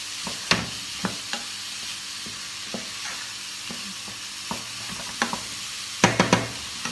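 Food searing in a hot pan on a home stove, a steady low sizzle broken by scattered sharp clicks and scrapes of a utensil stirring, with a few louder knocks near the end.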